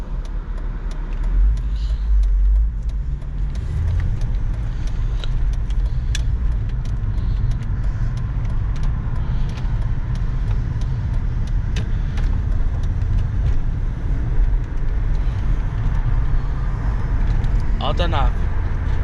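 A Volvo V70 engine runs steadily at idle, a continuous low rumble heard from inside the car at close range, with a faint higher noise near the end.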